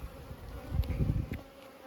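Honeybees buzz around an open hive during an inspection, some carrying orange pollen, a close, steady droning hum that swells and fades as bees pass near, with no talking.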